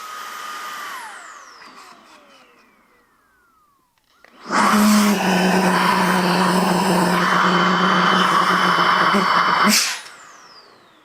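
A Milwaukee M18 precision blower starts up and runs at a loud, steady whoosh for about five seconds nearby, then cuts off sharply, after a quiet lead-in with a fading whine.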